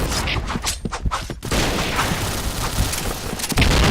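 A grenade goes off in the Point Blank shooting game: rapid bursts of gunfire and sharp cracks, then a heavy boom followed by a sustained roar of blast noise.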